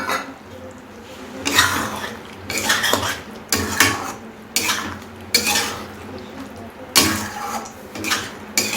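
A spatula scrapes and clanks against a pan while fried lentil dumplings are stirred into a bottle gourd curry, giving about eight bursts of metallic scraping in an uneven rhythm, close up with no talk.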